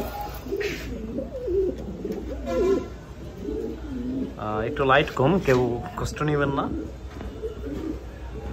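Pigeon chicks at a fancy pigeon farm, Red Lahori breed, coo softly in short bursts while someone talks close by.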